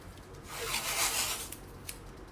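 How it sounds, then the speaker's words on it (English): Scissors cutting through a matte border during a gallery wall project, a single soft, close swish of blades slicing paper, followed by two faint clicks. "where's my scissors? I'm gonna cut this"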